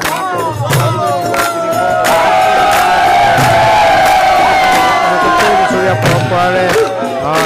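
Festive crowd at a Holi celebration in a Vaishnavite monastery, loud sustained cheering and whooping from many voices with drum beats pulsing underneath, close and continuous.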